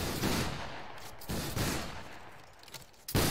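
Musket volley fired by a line of soldiers in the video game Battle Grounds III, a dense crackling burst of overlapping shots, followed by another sharp blast near the end.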